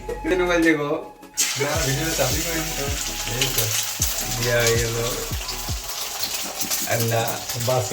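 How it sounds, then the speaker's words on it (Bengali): An egg frying in a pan for a home-cooked Bengali rice-and-egg meal gives a steady sizzle throughout, mixed with background voices and other household sounds. "ডিম ভাজা হচ্ছে"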